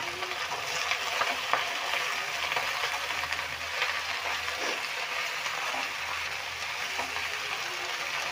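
Bathua leaves frying gently on low heat in a pan for a paratha filling, a steady soft sizzle with faint crackles and occasional stirring scrapes throughout.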